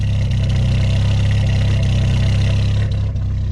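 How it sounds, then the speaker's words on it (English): A Volkswagen Mk2 Jetta engine idles steadily with a low, throbbing exhaust burble, close and constant, with a slight dip near the end. "This car sounds cool. It's not like a real exhaust, but it sounds cool."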